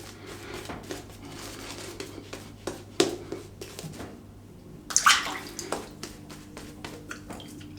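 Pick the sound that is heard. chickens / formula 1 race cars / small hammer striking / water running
water running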